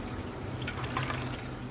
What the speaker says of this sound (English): you just want to gently squeeze so we can get rid of all that excess water